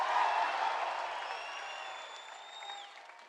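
A loud, raucous crowd cheers and applauds at a UFC press conference in Sydney, a dense, sustained roar with whistles and shouts that stays steady throughout and fades slightly toward the end.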